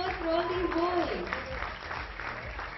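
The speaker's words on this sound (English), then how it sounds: "Can I have a huge round of applause for all these boys?" Audience applause for contestants at a fashion week show, steady clapping from a crowd that carries on beneath an announcer's voice.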